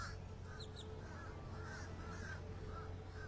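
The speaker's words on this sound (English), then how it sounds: "And the birds are a-squawking. The ducks are a-quacking." Birds squawk and caw repeatedly over a steady outdoor hum at a lagoon, with harsh calls coming in short, uneven bursts; no quacking stands out.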